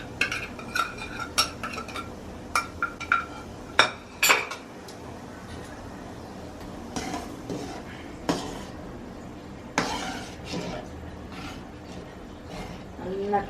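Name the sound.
spinach curry stirred in a pot with utensils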